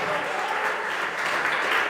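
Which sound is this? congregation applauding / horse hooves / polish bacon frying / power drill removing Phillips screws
congregation applauding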